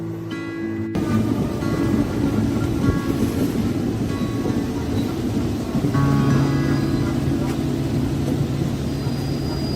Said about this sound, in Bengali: ভোর হওয়ার সাথে সাথেই আমাদের ট্রেনও দ্রুত গতিতে ছুটে চলেছিল।